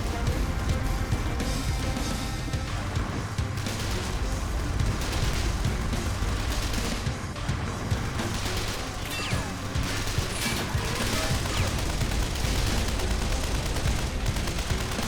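Sustained wartime battle in the strategy game Men of War: Condemned Heroes, with dense overlapping gunfire, machine-gun bursts and heavy cannon blasts rumbling continuously at a constant loud level.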